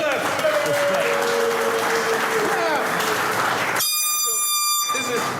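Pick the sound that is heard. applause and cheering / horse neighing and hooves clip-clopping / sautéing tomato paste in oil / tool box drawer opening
applause and cheering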